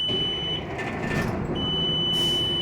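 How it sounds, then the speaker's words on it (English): Low air alarm in a New Flyer transit bus cab, a steady high electronic tone that holds, cuts out briefly, then resumes over a constant low engine idle rumble. "That is now the low air alarm"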